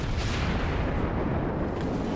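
Heavy 203mm cruiser cannons firing in World of Warships, a dense, continuous roar of booming gunfire that fills the whole short stretch at steady loudness with no talk.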